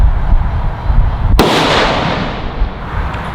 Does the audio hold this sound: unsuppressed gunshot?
yes